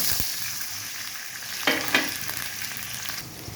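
Sliced onions fry in oil in a pan until reddish, a steady crackling sizzle with a couple of brighter pops and soft stirring, with no voices.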